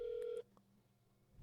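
A quick run of two or three electronic telephone keypad tones sounds as a call is placed, clear and steady, then drops to a faint, quiet line with no voices.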